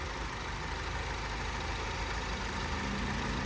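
A 2009 Honda Civic EX-L coupe's 1.8-liter four-cylinder idles steadily and smoothly, a continuous low even hum with no talk.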